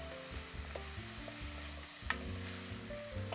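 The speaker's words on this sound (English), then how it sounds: "we're gonna add that tempeh in. Gonna mix this all together." Tempeh is stirred into a sizzling pan, a spoon scraping and clattering in irregular strokes over a constant close frying hiss, with no one talking.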